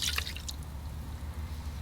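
Fish sauce pouring into a bowl for an egg yolk salad dressing, a short close splash and drip at the start, then a low steady background hum with no talk.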